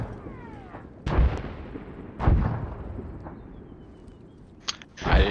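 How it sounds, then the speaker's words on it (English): Artillery fire in a video game battle, a few heavy booming blasts at uneven intervals, moderately near, with a couple of closer sharp bursts toward the end and no talk. "Is that our artillery?"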